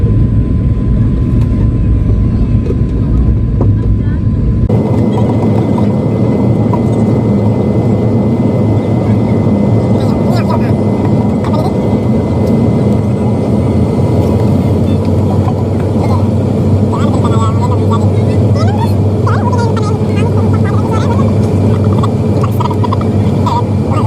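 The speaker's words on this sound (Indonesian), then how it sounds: "Pesawat akhirnya akan mendarat di Bandara Internasional Hang Nadiem" Inside the cabin of an airliner descending toward Hang Nadim International Airport in Batam, a loud continuous engine drone and rushing air hum fill the space, shifting in tone partway through and holding steady throughout.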